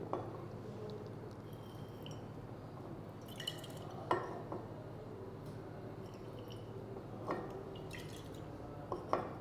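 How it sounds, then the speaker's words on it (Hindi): Solution dripping from a glass burette into a flask during a lab titration, a few faint, widely spaced drips and light glassy ticks over a steady low room hum. "बस 1-2 ड्रॉप और डलेगा।"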